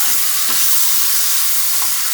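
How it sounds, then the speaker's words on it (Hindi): Chicken browning in a hot pan, a steady broadband sizzle that stays loud and even throughout, close by, with a couple of faint stirring knocks and no voices. "ये देखिए ये चिकन को भूनते हुए"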